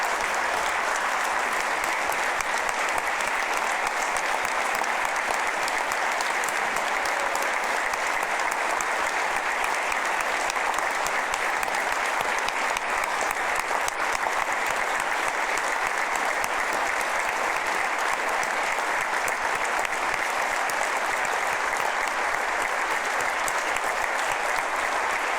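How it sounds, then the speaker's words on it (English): At a political kick-off speech, a large standing audience gives a long, sustained round of applause for nursing home staff, dense and even throughout. "We'll give you a round of applause"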